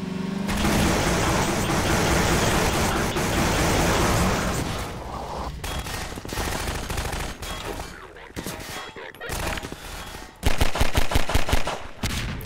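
Rapid Half-Life 2 gunfire rattles in heavy automatic bursts, loud and dense at first, then breaking into scattered shots and a final string of sharp, evenly spaced blasts, with no talk over it.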